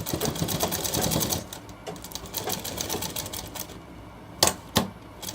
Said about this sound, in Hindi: यहाँ पे हमें सिलाई अटैच करनी है बिल्कुल पेस्टिंग के नज़दीक एक बाल भर का फैसला छोड़ के